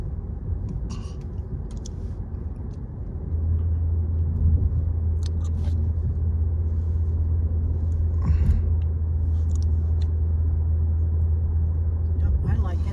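Low steady road rumble inside a new midnight blue car while driving, with a deeper engine drone settling in partway through and people talking faintly over it.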